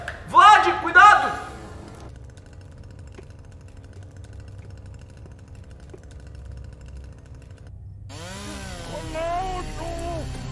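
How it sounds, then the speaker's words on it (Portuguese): Chainsaw running in a scene from an animated Brazilian feature film, a steady droning engine buzz sustained beneath shouting voices at the start and end. "Meu Deus, uma motosserra."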